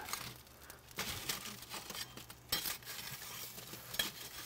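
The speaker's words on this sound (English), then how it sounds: "take our little rake here, rake some of the coals around, move them over to the left side" Charcoal coals are raked and shifted inside a Komodo Kamado grill, giving faint, scattered scraping and crunching rustles in a few short bursts, with quiet gaps between them and no voices.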